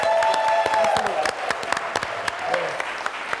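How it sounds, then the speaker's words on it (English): A crowd at a live comedy show gives a round of applause: thick, steady clapping that is loud at the start and eases slightly, with a voice speaking over it now and then. "I think we need another round of applause for Quincy."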